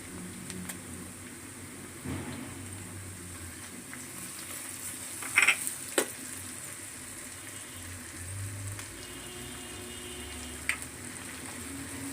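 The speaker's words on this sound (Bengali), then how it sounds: "এখানে আমি এখন বাটা মশলাগুলো দিয়ে দেবো" Ground spice paste fries with softened onions for a fish curry, giving a low, steady sizzle with occasional sharp clinks and scrapes of a utensil on the pan, and no talk.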